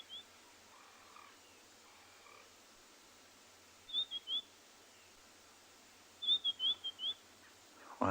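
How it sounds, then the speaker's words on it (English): White-browed scrub robins call in the Lowveld at dusk at Ngala Private Game Reserve. Short bursts of quick, rising whistled notes come twice, faint and a little distant, over a quiet evening background. No one talks. "White-browed scrub robins."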